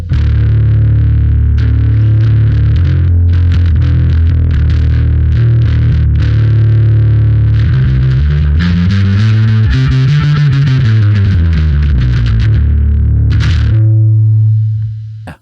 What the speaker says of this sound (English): Right off the bat, there's a lot of distortion in there.